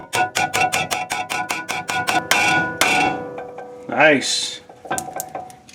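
Metal hammer blows on a ball joint on a Mitsubishi Raider or Dodge Dakota, struck with the nut left on the shaft: a rapid run of sharp, ringing clanks, then a short spoken word and a few more hits.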